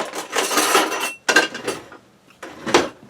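Spatula spreads marinara spaghetti sauce across the bottom of a pan: three close bursts of wet scraping and light clinking against the metal, separated by short pauses, with no voices.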